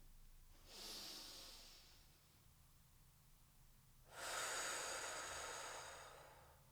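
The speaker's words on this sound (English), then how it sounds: "We take a big breath in." A singer draws big breaths in for vocal support, two audible breathy inhalations, a shorter one near the start and a louder, longer one later, close and alone, with no speech.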